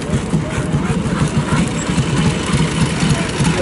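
A Harley-Davidson motorcycle engine idles at the AMCA Viking Meet, an antique motorcycle gathering in Minnesota, as a steady, close, low throb under a voice and crowd chatter.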